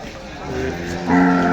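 A water buffalo at the Maur cattle market in Punjab gives a low, drawn-out lowing call that swells louder toward the end, close by amid the crowd's background chatter.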